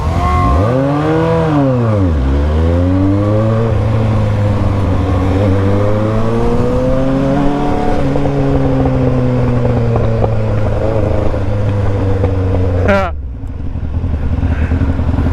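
Motorcycle burnout with sport bikes such as a CBR 600RR, Ninja ZX6R and R1, one engine held at loud sustained high revs with rising and falling pitch sweeps for about thirteen seconds before cutting off abruptly, with people talking faintly nearby.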